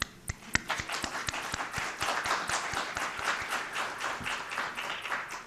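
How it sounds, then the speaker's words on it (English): Scattered applause from a conference audience honoring an organizer, individual claps sharp and distinct at first, then thickening into a moderate, fairly close round of clapping. "Maritza, a round of applause"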